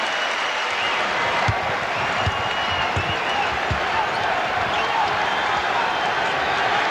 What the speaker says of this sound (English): The crowd reacting to the Knicks play.